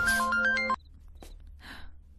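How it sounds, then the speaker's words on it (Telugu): A phone ringtone plays loud and close in a bright repeating melodic pattern for about three quarters of a second, then cuts off, leaving faint scattered noises. "ఫోన్ వచ్చింది బేబీ, ఫోన్"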